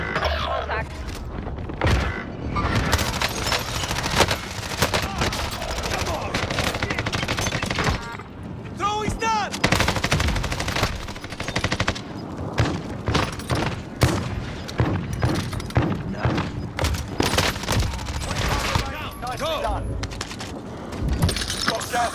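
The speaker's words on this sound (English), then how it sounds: "Enemy precision airstrike! Take cover!" Dense Call of Duty: Warzone combat: an enemy precision airstrike sets off booming explosions amid rapid bursts of gunfire, loud and nearly continuous, while voices talk over the battle.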